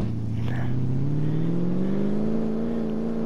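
A Maserati Sebring in Car Mechanic Simulator accelerates, its engine drone rising steadily in pitch over a few seconds, close and continuous, with a brief faint voice near the start.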